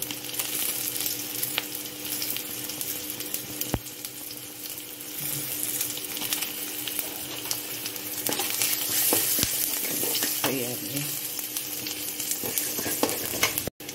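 Turmeric and grated coconut frying in a pan, a steady dense sizzle that runs through the whole stretch, with scattered stirring scrapes and clicks from a utensil. Close and fairly loud, with no one talking.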